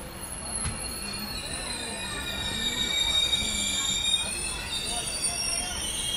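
The Murdeshwar SF Express rolls into Kasaragod railway station with its steel wheels squealing steadily against the rails. Low rumbles and occasional clanks sit under the shrill screech, which swells and eases over several seconds.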